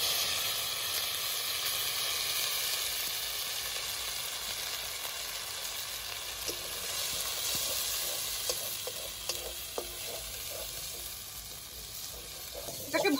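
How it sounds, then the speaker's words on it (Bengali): Spice paste mixture for a pea kochuri filling frying in hot oil in a kadai in a Bengali kitchen, giving a steady, loud, close sizzle throughout, with scraping stirring clicks near the end. "মিশ্রণটা এবার তেল গরম হয়ে গেছে, কড়াইতে পুরোটা দিয়ে দেবো।"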